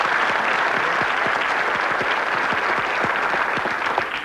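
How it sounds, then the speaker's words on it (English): Studio audience on the 1991 ITV game show Lucky Ladders gives a loud, sustained round of applause, thick and even from start to finish. "Give them a very warm round of applause"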